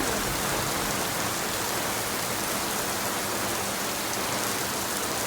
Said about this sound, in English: And it is pouring here at Saratoga Springs.